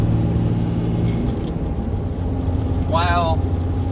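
A 2006 Ram 3500 pickup with a Cummins diesel and G56 transmission cruising in Gear Vendors overdrive, a steady low engine drone and road rumble heard from inside the cab, with someone talking over it.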